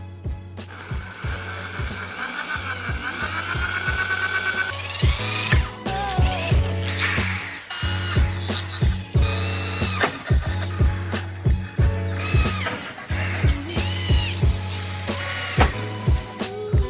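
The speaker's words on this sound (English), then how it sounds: "The next step is to take a 1/8 inch drill bit and drill our pilot holes." A power drill with a 1/8 inch bit drills pilot holes through center-punched marks for rear tailgate armor, running in repeated bursts with ratcheting clicks, revving and stopping several times at close range.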